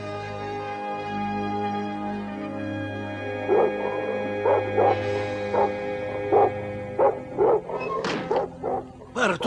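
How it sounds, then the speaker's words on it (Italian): Dogs bark in a cartoon scene, sharp yips and bow-wows repeating in an uneven rhythm over a sustained musical tone, loud and close. "Perché continuate ad abbaiare?"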